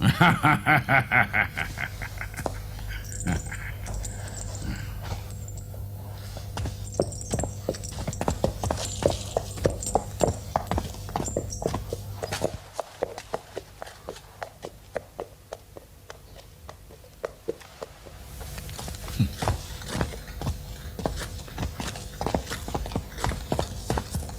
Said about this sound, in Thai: ม้ามันพยศนะ